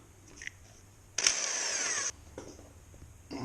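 A power tool whirs in reverse for about a second to break loose the oil filter on a Yamaha FZ6 motorcycle, one short loud burst between quieter clicks and handling noise.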